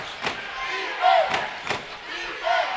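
Home crowd at a Delaware State Hornets basketball game against NC A&T roaring and shouting after a basket, with loud swells of cheering and sharp thuds from the arena.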